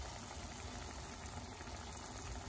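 Water boiling hard in a pan of small thumb-size dumplings, a dense continuous bubbling and hissing close by, steady and even throughout with no talk.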